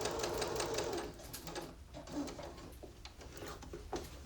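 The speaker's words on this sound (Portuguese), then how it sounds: "só vou virar a máquina e continuar com a costura" Sewing machine stitching fabric for a small bucket-shaped pouch, a steady close mechanical whir of needle strokes running throughout with slight changes in pace.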